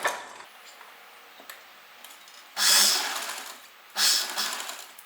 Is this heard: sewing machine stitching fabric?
yes